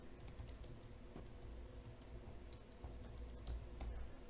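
Steady typing on a computer keyboard, close and quiet, with a continuous patter of light key clicks and no talking.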